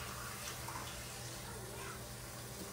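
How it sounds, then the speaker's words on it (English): Running tap water rinsing peanut butter off hands at a kitchen sink, a steady, dense hiss and splash of flowing water that fills the whole moment at moderate volume. "I'm going to rinse off my hands."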